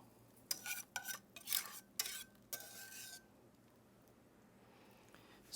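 Spatula scraping chocolate cake batter into a greased, parchment-lined 9 by 13 pan, a run of soft close scrapes and taps in the first few seconds, then near silence.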